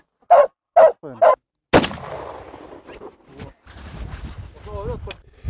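Three sharp barks from a hunting dog up close, then a loud gunshot followed by rustling and muffled talking, during a partridge hunt.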